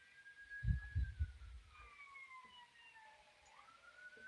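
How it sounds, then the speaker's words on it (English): A police siren wails faintly in the distance, its tone sliding slowly up and down, with a few low thumps near the start. "Oh, you hear the sirens?"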